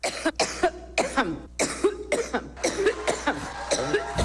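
Someone coughs over and over in quick, rough bursts, close by and loud, with only short breaths between the coughs.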